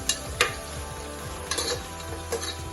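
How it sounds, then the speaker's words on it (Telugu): Thinly sliced onions stirred in a pan for South Indian style dal khichdi, with soft sizzling under a few sharp spoon scrapes against the pan, close and alone. "ఇప్పుడు సన్నగా కట్ చేసుకున్న ఆనియన్స్ వేసుకున్నాను. కలుపుకొని"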